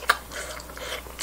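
Close, crisp bites and chewing into a spicy, chewy oyster pancake (gul-jeon), a sharp crunch at the start followed by soft, wet mastication, with no talking.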